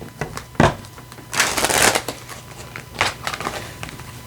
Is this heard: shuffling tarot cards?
yes